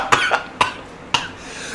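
A man coughs three times in short, sharp bursts, close and loud, with brief pauses between the second and third cough.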